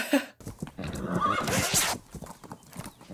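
A horse whinnies loudly in a long shrill neigh, with hooves clopping and shuffling nearby before and after.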